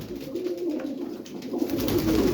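Pigeons coo steadily at a Punjab pigeon sale, a continuous low murmur of several birds close by that grows slightly louder toward the end, with no talking.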